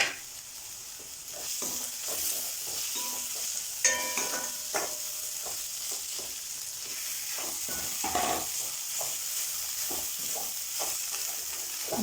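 Mashed potato and minced chicken are stirred in a hot pan for chicken cutlets, a steady sizzle running under repeated soft scraping strokes of a spoon, close and fairly quiet.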